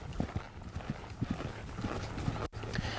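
A horse being ridden through a canter departure, rolling smoothly into a lope, gives rhythmic muffled hoofbeats in a rolling three-beat cadence, moderately close on soft ground under a broad background rumble.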